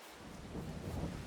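Steady rain with a low thunder rumble swelling midway in Farming Simulator 22, a continuous dense wash of downpour that stays loud throughout, with no voices.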